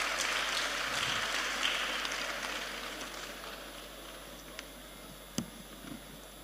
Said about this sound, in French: Je me permets de solliciter encore des applaudissements pour les 25 candidates.